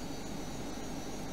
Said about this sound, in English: Like, little propeller planes.